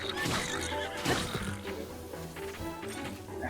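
Horse neighing in Zelda: Breath of the Wild, a loud whinny with snorts, hoof clatter and game effects filling the few seconds, with no talking.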